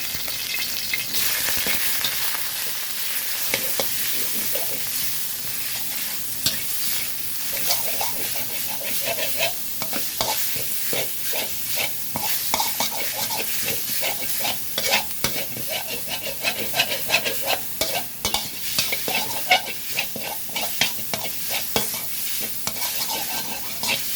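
Minced pork stir-fried with egg in a hot pan, loud continuous sizzling broken by rapid scraping and stirring strokes of a spatula, close by and sustained throughout.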